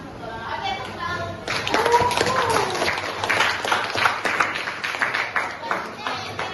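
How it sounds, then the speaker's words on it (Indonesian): Classroom applause from a group of students after the teacher calls for it, with scattered claps over a steady patter and children's voices audible at the start. "Oke, tepuk tangan"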